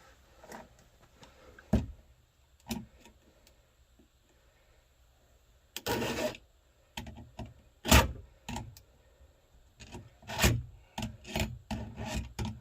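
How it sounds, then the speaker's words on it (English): Short, scattered rasping strokes of a file on a chainsaw tooth while sharpening it, close and quiet, with pauses between bursts and a cluster of quicker strokes near the end. "I'm going to leave the tape on and do that for my last tooth."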